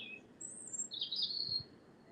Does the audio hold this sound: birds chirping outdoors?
yes